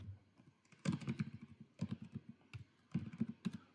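C code typed on a computer keyboard, quiet close-up clusters of rapid key clicks in three short bursts separated by brief pauses.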